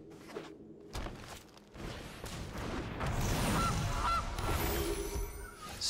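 A goose honks in a digital card game, the calls rising over a busy mix of game effects and rustling that swells toward the end, loud and close with no talk.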